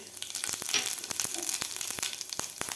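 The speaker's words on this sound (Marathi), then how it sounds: "तेल आपलं गरम झालेलं आहे यामध्ये घालायचे आपल्याला जिरे" Cumin seeds crackle and sizzle in a generous amount of hot oil in a pan, with sharp irregular pops over a steady hiss and no voices.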